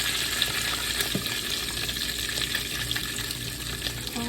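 Pork chops fry in a pan with a constant close, crackling sizzle and scattered pops, with no talk.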